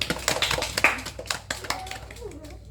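A classroom group gives a short burst of hand clapping during a guidance session, a quick scatter of claps that fades out within a few seconds.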